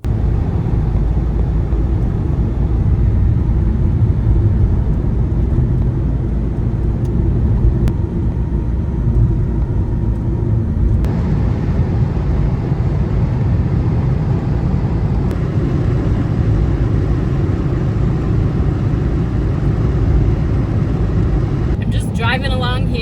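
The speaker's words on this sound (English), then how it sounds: "Driving along here in rural Texas, almost to my destination." A car drives along a road in rural Texas, making a steady low interior rumble of engine and road noise that holds throughout, with a person talking over it.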